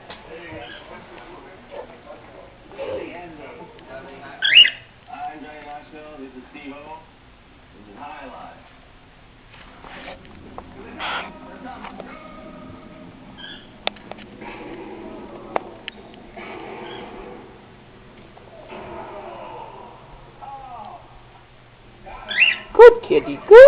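A bird squawks in a few sharp, scattered bursts while confronting a cat indoors, with people talking throughout and louder squawks near the start and the end.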